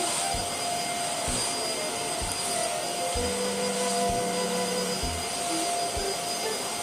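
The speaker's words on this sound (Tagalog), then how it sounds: "Final touch siya ng pag-vacuum." A vacuum cleaner runs continuously over a carpet, a loud steady whining drone with periodic thumps as the head is pushed back and forth, no talk.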